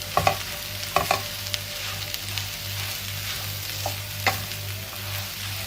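Young liang leaves with egg and a little chili are stir-fried in a pan, giving a soft continuous sizzle broken by a few clinks and scrapes of the spatula, close and fairly quiet, with no talking.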